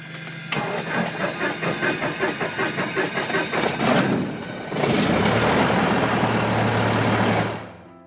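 A small propeller aircraft engine cranks with rapid rhythmic chugging, then catches and settles into a loud, steady running roar close by before the sound cuts off.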